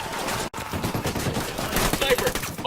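Rapid automatic gunfire in the shooter game Ghost Recon Wildlands rattles out in close, loud bursts, with a brief cut of silence near the start and busy chattering shots after.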